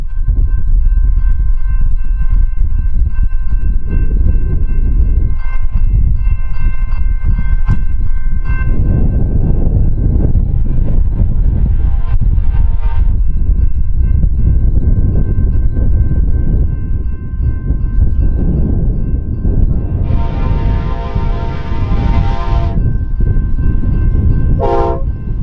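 Amtrak's westbound Southwest Chief, led by two Genesis locomotives, rumbles past with loud, heavy low-end engine roar and wheel noise, sounding long horn blasts partway through and again near the end.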